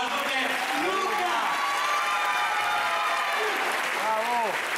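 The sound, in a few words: audience applause at a comedy show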